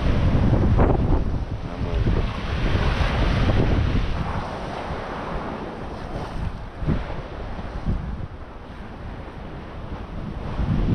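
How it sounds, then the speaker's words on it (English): Strong wind on a beach buffets the microphone with a steady, loud roar. Surf and waves rush underneath, and no one speaks. "So you know it's kind of windy"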